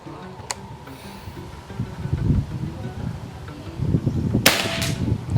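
A sharp crack of a PCP air rifle shot, Predator or Marauder OD 38, stands out near the end over steady outdoor background noise, with a fainter click earlier.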